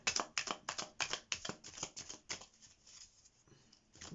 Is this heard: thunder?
no